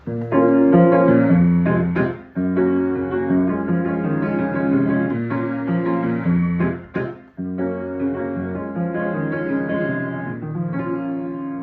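Piano playing the rhythm of a song at a steady tempo, rich sustained chords and a rhythmic melodic line, loud and close, with brief pauses between phrases.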